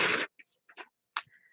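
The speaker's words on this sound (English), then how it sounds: "So I'm going to rip some music paper" Music paper being torn for a mixed media envelope project: a loud opening rip followed by several short, light tearing and rustling bursts, close and without talk.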